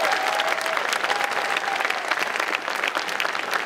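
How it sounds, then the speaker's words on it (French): A convention audience at a cosplay show applauds loudly, dense continuous clapping with a few cheers rising over it throughout. "On les applaudit bien fort."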